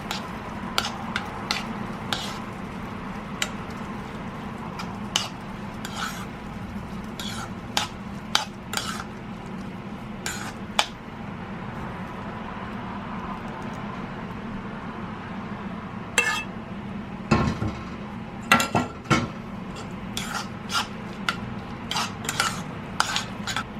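A spoon stirs coconut milk into sticky rice in a pot, scraping and clinking against the metal in irregular taps over a faint steady sizzle, with no talking.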